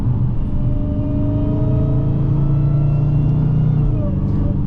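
A Dodge Challenger widebody R/T rumbles loudly close by, its engine holding a deep steady growl with a slight rise in revs, no talk over it.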